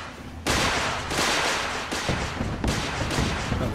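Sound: gunfire from guns in Fallout 4 video game

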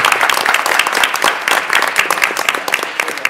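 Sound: audience applause for student Safety Patrol

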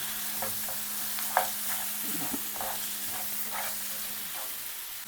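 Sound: stirring crab with masala in pan

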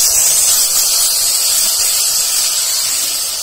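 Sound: masala frying in pan with yellow mustard

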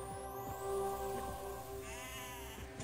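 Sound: goats bleating in video game Sker Ritual

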